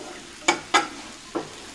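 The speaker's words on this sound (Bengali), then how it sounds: "আর এই যে মাছগুলো ভেজে নিচ্ছি একটু লাল লাল করে।" Fish frying in a kadai gives a soft, steady sizzle broken by three sharp scraping stirs of a spatula, close and distinct. No one speaks.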